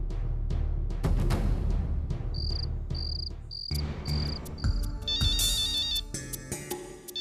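A high electronic ringtone chirps in five evenly spaced short bursts, over a busy background of music and other sounds.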